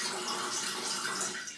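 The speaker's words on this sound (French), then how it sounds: "Je vais tout simplement positionner la carafe en dessous et ouvrir le tuyau." Water pours steadily from a tube into a carafe, a continuous hissing stream that stays near and even throughout.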